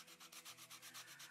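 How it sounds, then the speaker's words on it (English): Sanding block rubbed back and forth over a toy in Toy Tinker Simulator, a quick rhythmic series of soft, gritty strokes, about a dozen in a row, faint and alone. "let's sand away"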